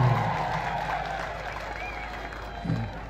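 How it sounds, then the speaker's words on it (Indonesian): A GKI congregation at an Easter gathering applauds, a moderate steady patter of clapping mixed with crowd murmur and faint voices, with a brief swell near the end. "mari kita berikan tepuk tangan untuk jemaat GKI Evata Maria Pantai"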